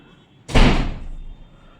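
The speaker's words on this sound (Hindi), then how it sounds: "दरवाजे बज रहे हैं जोर जोर से।" A door slams hard once in strong wind on a cold, stormy night, a loud close thud followed by a rattling rumble that fades over about a second.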